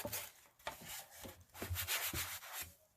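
A sponge rubs black acrylic paint onto a metal pumpkin yard sign in short, close scrubbing strokes with a soft, steady, scratchy rhythm.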